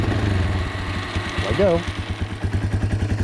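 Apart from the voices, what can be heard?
motorcycle engine being started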